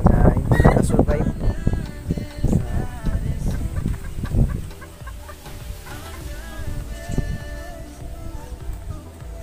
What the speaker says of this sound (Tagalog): Yan yung bantam namin.